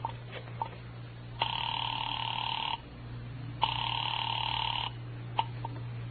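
An old-style telephone ringback tone heard through the handset after dialing a number: two long, steady double-tone rings separated by a pause, clear and fairly loud over a low hum, with faint clicks around them.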